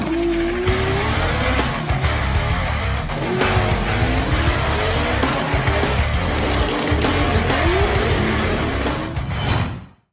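A loud 1970 Lada engine revs and roars continuously while tires squeal in repeated rising whines, steady and close for about ten seconds before cutting off.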